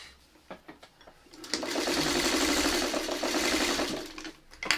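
Sewing machine stitching a quilt pattern, starting after a few light clicks and running in a fast, close, steady whir for about three seconds before slowing to a stop.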